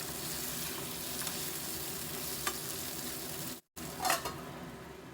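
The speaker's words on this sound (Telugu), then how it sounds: "చిటికెడు పసుపు కూడా వేసుకొని దీన్ని మూత పెట్టి కొంచెం రోస్ట్ చేసుకుందాము." Taro (colocasia) pieces roasting with a pinch of turmeric in a covered pan, giving a soft, even sizzle with a few faint utensil taps and a brief break near the end.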